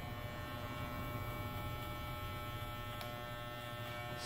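An electric hair clipper fitted with a number 1 guard buzzes steadily and close by during a haircut, a constant hum with no breaks.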